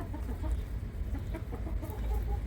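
Rooster clucking and pecking amid a farmyard flock, a steady low background of close, overlapping bird and animal noise with short clucks scattered throughout and no clear talk.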